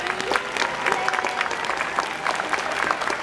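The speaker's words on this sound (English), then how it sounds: "how about a round of applause for Nakai?" A SeaWorld audience applauds for Nakai, a performing whale, with a dense, steady wash of clapping from many hands that holds throughout at moderate loudness, crowd noise mixed in.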